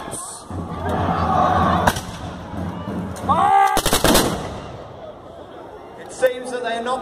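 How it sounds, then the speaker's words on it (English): A musket volley rings out at a reenactment of the English Civil War siege of Woodcroft Castle, Peterborough: loud shouted commands and crowd noise, then a sharp crack and a ragged cluster of near, booming shots. "Prepare to give fire."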